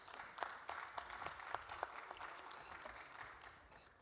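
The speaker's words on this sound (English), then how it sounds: "Please give them a warm round of applause as they're coming up to the stage." Quiet audience applause at a conference on sustainable trade in Africa as speakers walk up to the stage: a brief burst of scattered clapping that fades toward the end, heard from a distance.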